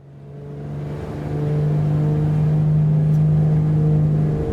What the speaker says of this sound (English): There's the turbochargers.